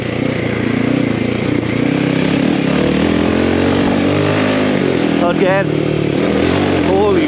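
A Royal Enfield Himalayan 450 Rally motorcycle with performance upgrades rides a trail, its engine droning loud and close with shifting revs, while a rider talks over it.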